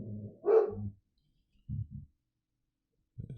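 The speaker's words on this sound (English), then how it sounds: "my dog's barking there" A dog barks indoors, reacting to something pushed through the letterbox. A louder bark comes first, then a quick double bark, then a short final one, with silent gaps between them.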